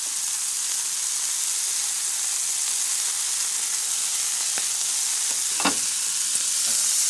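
Butter sizzles and fries steadily in a small frying pan, a close, continuous crackling hiss, with a brief sharper burst of spitting near the end as something is added or stirred.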